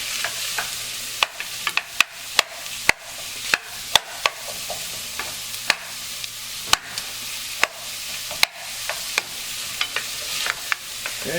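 Onions and carrots cook in warming oil in a soup pot for minestrone, giving a steady low sizzle that a spoon breaks with sharp, regular scraping clicks against the pot, close and clear with no talking.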